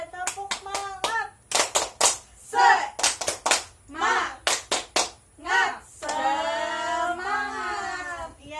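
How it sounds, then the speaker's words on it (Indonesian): Classroom students perform a rhythmic spirit clap, bursts of sharp hand claps in patterned groups mixed with children's chanting voices, ending in a sustained shout. "1, 2, 3, tepuk semangat."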